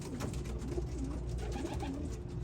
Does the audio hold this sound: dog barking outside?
no